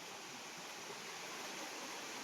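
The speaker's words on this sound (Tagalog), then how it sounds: "Ayan yung falls dyan, may bumabagsak na tubig dyan sa falls." Water pours over a waterfall into a clear river at Karugo Falls in Montalban, Rizal, making a steady, full rushing hiss that holds level throughout without pauses.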